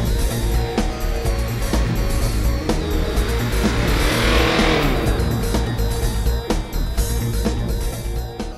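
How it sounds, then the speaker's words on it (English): A car towing a caravan on a snowy flat test track brakes hard to an emergency stop, its engine rumble loud and close with a rising, sweeping roar midway, steady and continuous throughout. "we're currently testing the braking with the caravan behind"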